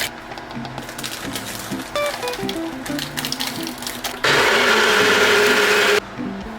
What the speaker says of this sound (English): So I'm gonna make a protein smoothie with coconut water